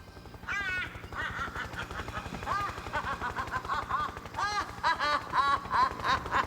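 Bird calls caw repeatedly, rising and falling over a steady rhythmic pulsing background, moderately loud and near.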